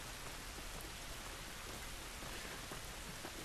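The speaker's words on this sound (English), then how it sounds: "It's raining." Steady rain falls outdoors in The Last of Us video game, a dense, even hiss that holds without a break, with no speech over it.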